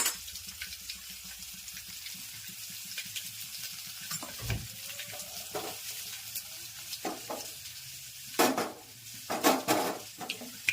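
Sliced brinjal tempering in hot oil with mustard seeds, cumin and fenugreek powder gives a steady hiss and crackle, with soft clinks and stirring scrapes of a pan and a few louder sizzling bursts toward the end.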